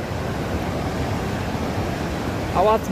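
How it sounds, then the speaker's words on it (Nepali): A loud mountain stream rushes in a constant broadband roar, with a brief voice near the end. "सुन्नु होला खोलाको आवाज मात्रै कत्रो ठुलो आवाज हो"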